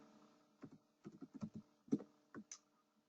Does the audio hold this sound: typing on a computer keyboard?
yes